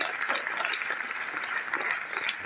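A seated audience at a French film screening and discussion applauds steadily, a dense continuous wash of many hands clapping close by, with no pauses across the stretch.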